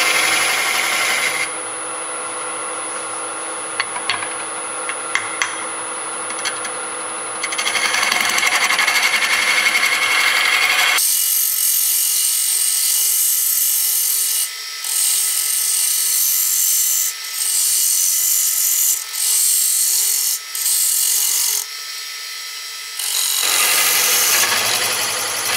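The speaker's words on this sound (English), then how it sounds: "I'm going to come in here with a round cutter on each side of the ring and just make it thinner before I" A round cutter thins both sides of a wooden ring on a lathe, a loud continuous grinding whine with a steady motor hum that shifts in tone as the cutter engages, with brief dips between passes.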